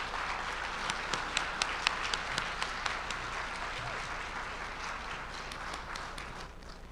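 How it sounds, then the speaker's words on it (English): A crowd applauds steadily, quieter and somewhat distant, with a few sharper individual claps standing out over the continuous clapping. "Let's give them a big round of applause."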